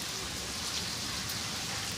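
Steady rain hisses continuously, an even, dense patter on surfaces with no voices or other sounds.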